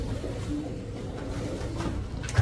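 Pigeons coo softly and continuously in an enclosed aviary loft, a low murmuring flock with occasional shuffling and a light bump near the end.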